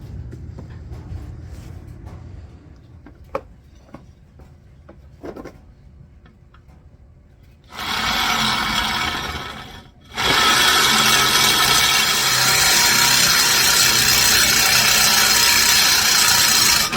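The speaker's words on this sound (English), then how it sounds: "the hole is too small, so we'll auger that out" A power drill augers out an undersized bolt hole on a Jeep, first a short loud whine, a brief pause, then a longer sustained grinding bore, following some quiet handling clicks.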